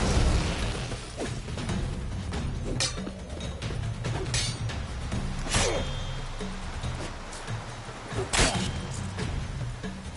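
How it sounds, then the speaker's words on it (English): Bombs exploding during combat training in The Witcher 3, with several sharp bursts and booms spread across the stretch amid clanking mechanical game sounds, fairly loud with no talking. "Throw a bomb."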